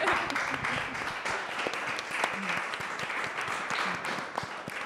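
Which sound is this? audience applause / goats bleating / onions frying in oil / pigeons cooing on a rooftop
audience applause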